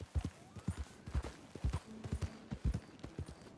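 A horse's hooves clip-clop in Red Dead Redemption 2 in a quick, uneven gallop of close, thudding beats as the horse lurches about, with no talk over it.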